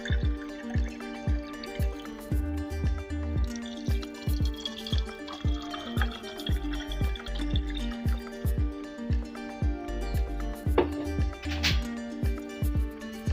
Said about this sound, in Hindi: पानी भी हम ठंडा शामिल कर रहे हैं, गिलास में भी शामिल करेंगे।